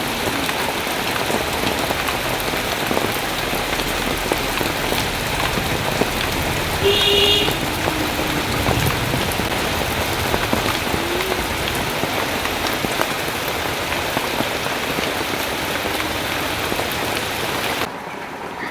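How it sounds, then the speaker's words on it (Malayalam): Heavy rain pours down steadily, a loud, dense and continuous hiss of drops with no talk, easing slightly just before the end. "മഴ ഉഷാറായിട്ട് പെയ്തുകൊണ്ടിരിക്കുന്നതാണ്"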